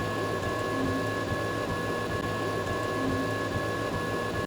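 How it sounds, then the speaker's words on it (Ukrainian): A 3D printer runs with a steady mechanical whir, a sustained tonal hum and constant motor noise, loud and continuous throughout, no voices. "Робимо якісні такі захисти на 3D принтері."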